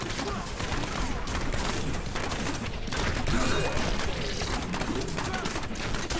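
Demon Hunter grenades bursting in Diablo 3, a busy stream of overlapping popping blasts and impacts amid game noise, loud and continuous with a voice talking faintly underneath.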